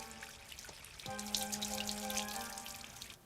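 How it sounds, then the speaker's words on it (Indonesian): Water running and splashing from a source found in a dry landscape in the children's cartoon Shimajiro, a steady trickling flow with a sustained tone beneath, fairly quiet and without talk. "Air! Aku menemukan air."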